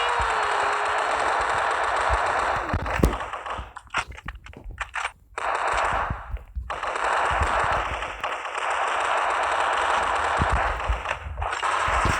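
Gunfire in the video game Crisis Action: loud, dense automatic bursts roll on almost continuously, with a few brief gaps where single shots crack and echo.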